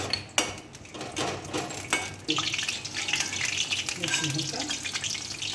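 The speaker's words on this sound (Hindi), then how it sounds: "इसको थोड़ा भून दे रहे हैं, रिफाइन को फ्राई कर ले रहे हैं" Raisins, almonds and cashews roast in refined oil for sooji halwa, with metal clinks and clatter at first, then a busy, crackling sizzle with stirring.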